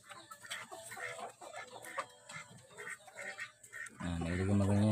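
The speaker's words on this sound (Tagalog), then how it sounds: "update natin ang ating manok. Yan. Yan, pinakawalan ko guys kasi gusto niyang lumabas." A pet rooster released from its cage clucks and calls in short bursts close by, with other farm animal noises, followed by a louder sustained crow near the end.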